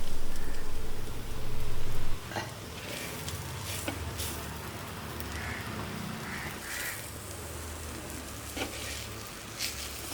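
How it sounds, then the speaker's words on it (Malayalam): Cooked chicken, boiled with pepper and salt, drops into hot masala in a pan and sizzles in a steady, hissing crackle that is loudest at first and then settles into an even fry. "അപ്പം നമ്മൾ ചിക്കൻ അങ്ങോട്ട് ഇട്ട് കൊടുക്കാൻ പോവുകയാണ്"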